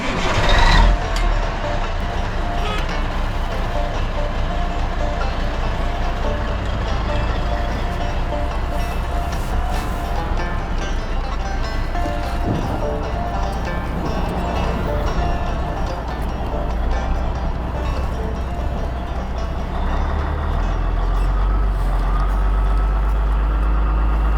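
A 1985 Ford CL9000 truck runs on a drive, its diesel engine giving a loud, steady low rumble that fills the whole stretch with little change in pitch.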